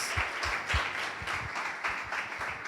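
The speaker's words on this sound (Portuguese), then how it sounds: "Uma salva de palmas para Jesus" A church congregation claps for Jesus in a loose, uneven rhythm, individual hand claps audible as distinct beats at moderate volume.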